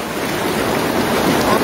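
A strong river current rushes in a loud, steady, unbroken wash close to the microphone, with no voices.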